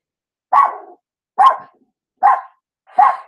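A dog barking four times in a steady rhythm, loud and close, each bark short and sharp with silence between and no talking.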